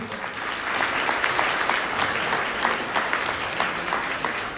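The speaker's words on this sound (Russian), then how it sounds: "должны быть бурные горячие аплодисменты" Warm audience applause fills a dog award ceremony in Moscow, a continuous dense patter of many hands clapping at steady loudness throughout.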